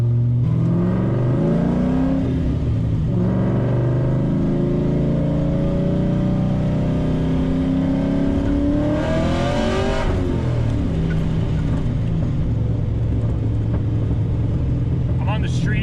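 A vehicle on a test run revs partway up in two long rising pulls, then the throttle is released each time, loud and close with a mechanical whine, and speech faintly present.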